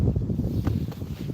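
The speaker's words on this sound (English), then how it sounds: "it is very windy out here" Strong outdoor wind at an RC flying field buffets the microphone with a steady low rumble and gusty roar, continuous throughout the short stretch with no speech over it.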